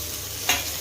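Fresh coriander leaves hit hot oil with a brief soft sizzle and stir, a short faint burst over a quiet steady frying hiss.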